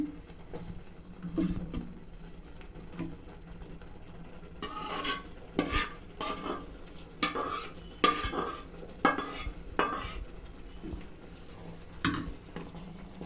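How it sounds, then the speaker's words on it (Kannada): Hot tempering is poured into a pot of bisibele bath and stirred, giving a run of close metallic clinks and scrapes of a spoon against the pan over a low kitchen background, with no talking. "ಇದು ಒಗ್ಗರಣೆ ಹಾಕಿರೋದು ಅದಕ್ಕೆ ಸುರಿತಾ ಇದ್ದೀನಿ"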